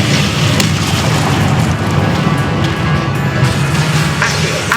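Confringo spell explosions in the game Hogwarts Legacy sound as loud, dense blasts and crackling over a constant roar of game noise.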